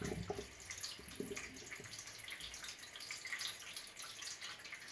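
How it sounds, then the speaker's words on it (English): Water drains steadily from a washing machine's drain pump filter into a shallow pan, a continuous close splashing trickle with no voices. "Just let the water drain."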